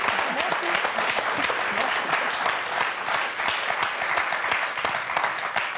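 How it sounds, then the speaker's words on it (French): Studio audience applause on the French TV word game show Motus, steady sustained clapping for several seconds, fairly close and even, with possible faint talk underneath. "Applaudissements pour Corinne et Denise"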